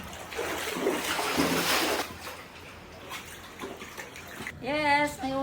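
Floodwater sloshing and splashing inside a flooded house, a dense close wash of water movement with a voice rising briefly near the end.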